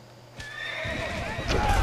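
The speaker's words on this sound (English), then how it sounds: "See if my horse is going to break through this" A horse in a strategy video game gives a short, clear whinny with clip-clopping hooves underneath, brief and fairly close.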